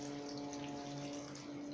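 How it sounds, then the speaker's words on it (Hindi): Water poured steadily into jalebi batter during home cooking, a continuous close pouring rush over a low steady hum. "पानी दे दोछे"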